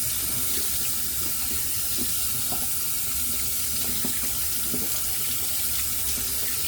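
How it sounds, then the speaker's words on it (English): A faucet runs steadily into a sink to rinse off shaving lather, a continuous close splashing stream with no voices. "Let me get this all rinsed off."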